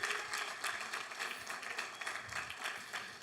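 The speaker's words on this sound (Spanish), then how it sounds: "Dale el aplauso fuerte al Señor." A church congregation gives a round of applause, a dense patter of many hands clapping at moderate distance, slightly uneven in strength across the few seconds, with no talking over it.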